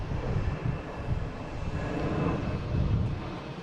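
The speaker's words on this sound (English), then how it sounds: "All right, we have a Cape Air taking off on 27." A Cape Air plane takes off on runway 27 at Boston Logan International Airport, heard as a steady, broad engine roar that swells slightly over a few seconds from a moderate distance.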